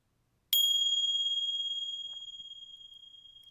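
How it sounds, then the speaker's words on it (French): A single meditation chime is struck once, giving a clear bright ring that decays slowly over several seconds in near silence. "ce troisième carillon marque la fin de la méditation"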